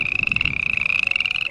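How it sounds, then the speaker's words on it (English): A frog in an animated fairy-tale story croaks in a steady, rapid pulsing trill that continues without a break, loud and close, with no voices over it. "Princess's heart sank as she saw the frog hop into the dining hall."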